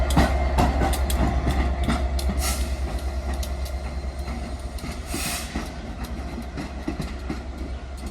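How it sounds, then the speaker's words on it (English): Diesel light locomotive 67008 passes close by, with a loud, sustained low engine rumble and the rattle and clatter of wheels on the track. "We have a light locomotive coming through,"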